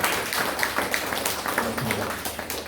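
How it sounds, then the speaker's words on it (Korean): A church congregation at a Sunday morning service applauds in encouragement, many hands clapping in a steady, fairly soft patter that fills the room without pause. "격려의 박수 한번 해드리겠습니다"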